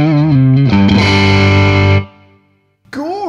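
Electric guitar through an Orange Rocker 32 combo amp with the gain raised, a loud distorted chord ringing out and sustaining for about two seconds before cutting off, then another crunchy attack.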